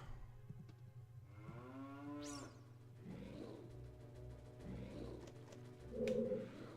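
A cow in Ocarina of Time Master Quest, inside Jabu-Jabu's Belly, lets out a single drawn-out moo that slides downward, set against a quiet, steady low game hum with faint chirps afterward.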